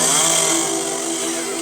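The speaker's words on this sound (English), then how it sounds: "following the sound of the chainsaws to find a house that needed work" Chainsaws cut steadily at a house needing repair work, a loud, close, continuous buzzing roar that fills the whole clip with no talking.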